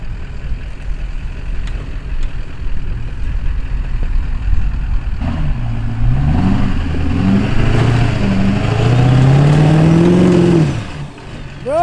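A lifted, squatted Duramax diesel truck tuned to about 500 horsepower revs hard with its wheels spinning, the engine note climbing and swelling loud and close over several seconds before cutting off.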